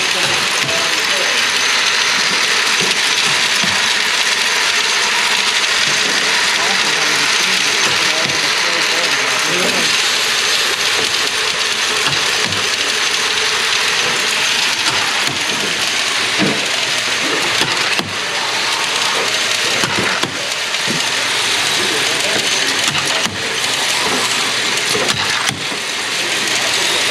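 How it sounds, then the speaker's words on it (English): An ammunition tray-packing machine with its bulk collator runs continuously, a loud dense mechanical clatter and rattle of parts and cartridges with steady whirring, filling the whole stretch with a little background talk. "So this machine puts the ammo in the trays for us, orients it, and allows us to package it on up."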